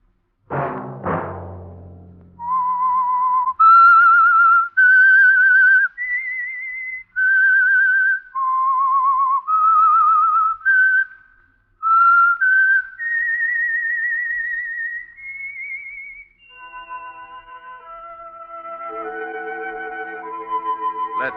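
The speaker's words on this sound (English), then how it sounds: "Let that whistle be your signal for the Signal Oil program, The Whistler" A single person whistles a slow, wavering theme melody as a radio mystery program's signal, clear and close with sustained notes. A short sharp knock opens it, and a soft instrumental chord follows the tune.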